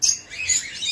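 African lovebirds chirp rapidly in a brief burst of high, busy tweeting, fairly close, in an aviary.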